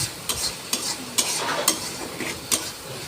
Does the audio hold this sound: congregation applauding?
no